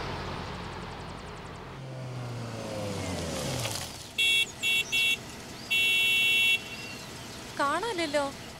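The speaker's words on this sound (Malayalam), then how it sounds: "ഇങ്ങനെ ഹോൺ അടിച്ച മനുഷ്യന്റെ ചെവി പൊട്ടിപ്പോവില്ലേ?" Car horn honking in a film scene: a few short blasts followed by one longer sustained blast, loud and close, after some engine noise and with people talking nearby.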